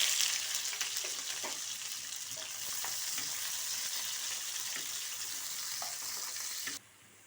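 Onions and green chillies fry in tempering oil with popped seeds for a potato and capsicum dish: a steady, close sizzle with light stirring clicks that stops abruptly near the end.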